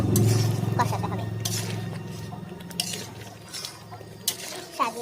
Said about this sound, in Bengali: আস্তে আস্তে করে কষছে, আস্তে আস্তে করে নাড়াতে হবে, নাহলে তলায় ধরে যেতে পারে।